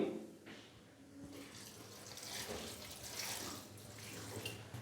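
Water pours steadily into a pot of beef karahi, a soft splashing rush that swells midway and continues, fairly quiet and close.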